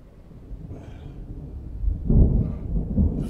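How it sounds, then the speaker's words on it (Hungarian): A thunderstorm in Jurassic World Evolution 2: a low rumble of thunder building in the last half of the clip, heavy and close, over faint wind-like noise, with no talking. "Ajaj! Vihar."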